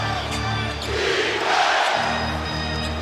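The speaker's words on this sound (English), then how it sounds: "Crowd back into it big time after that altercation." Crowd noise rises in a basketball arena during a Rockets at Lakers game after an on-court altercation; a broad, sustained roar with shouts and whoops, swelling in the middle of the stretch.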